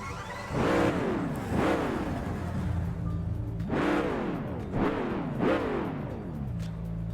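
Lamborghini Diablo engine in Test Drive Unlimited 2 cranking to life, then several sharp revs that rise and fall in a steady rhythm, loud and close with no talk.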